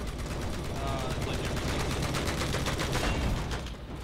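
Rapid gunfire in a video game crackles as dense, continuous bursts of shots aimed at the players, loud and close, rattling on without pause.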